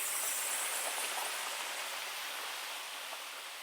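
Steady broadband rushing of falling water, constant and even throughout, like the Falling Foss waterfall heard from nearby with no other sounds.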